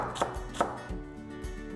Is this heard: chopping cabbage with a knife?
yes